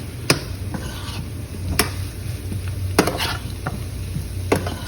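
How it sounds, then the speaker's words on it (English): Brussels sprouts are stirred in sizzling bacon grease in a pan, a soft continuous sizzle broken by several sharp scraping and knocking strokes of the spoon at irregular intervals. "we're just going to kind of stir all that together, get the bacon grease and the bacon fat all mixed onto the Brussels sprouts"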